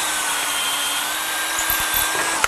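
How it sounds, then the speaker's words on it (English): Steady loud whine of a long aircraft drill cutting through hardened bushings on a glass panel door jig, sustained without a break and ending in a brief sharp click. "With a long aircraft drill we're drilling with"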